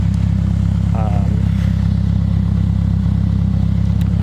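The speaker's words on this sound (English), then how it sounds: "the muffler is louder than I anticipated" Toyota Celica engine running through an Invidia N1 exhaust muffler, a loud, steady low droning rumble close by with constant pulsing and no revving, while a voice briefly sounds underneath.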